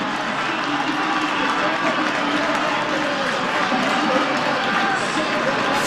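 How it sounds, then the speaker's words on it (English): A large crowd applauds and cheers at the Roubaix velodrome finish of the 2016 Paris–Roubaix cycling race, a dense, loud, unbroken roar of clapping and noise. "get the applause of the crowd first"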